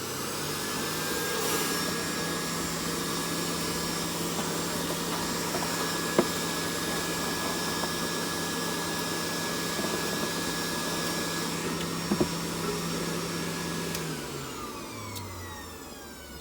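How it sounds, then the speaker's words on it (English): A CNC machine milling a flat area onto a part for an out-the-front knife, a steady loud mechanical whine and hum running continuously, winding down near the end, with no talking. "So I've got this CNC to machine in a flat portion"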